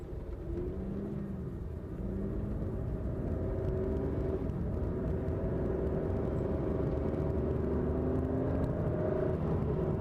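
A 2006 Aston Martin DB9 Volante pulls away, its engine a steady, loud low rumble and whir that builds slightly as the car drives off, with no talking.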